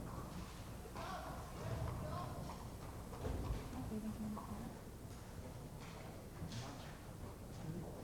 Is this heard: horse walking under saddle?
yes